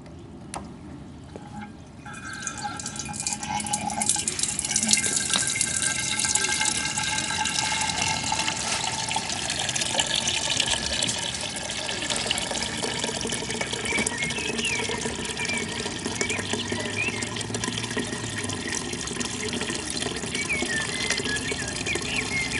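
Leftover diesel drained from a steel fuel tank pours into a glass container, a steady, close liquid rush that swells after a quiet start and keeps flowing for over twenty seconds.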